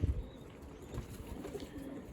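Domestic pigeons in a loft coo softly with low, rolling throaty calls, close by and fairly quiet, overlapping in a gentle continuous murmur.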